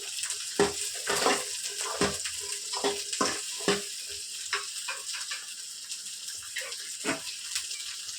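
Onions and cashews sauté in a pan for mutton kulambu, with a low sizzle under repeated clattering spatula scrapes against the pan at an uneven rhythm, close and moderately quiet.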